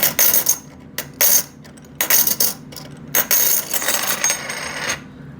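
Silver coins drop onto a pile and clink in several bright, jingling bursts with short pauses between them, close and fairly loud, with no talking.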